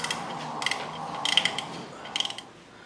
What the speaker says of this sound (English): And then we can move on to these two 8mm bolts and remove those